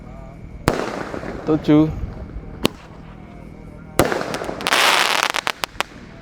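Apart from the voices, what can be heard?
8-shot firework shots bursting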